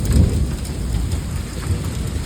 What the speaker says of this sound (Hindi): बर्फ़ पड़ने लगी है यार, ओले पड़ रहे हैं देखो, ये लो